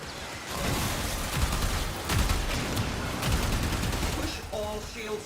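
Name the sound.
Railjack ship weapons and torpedoes firing in Warframe video game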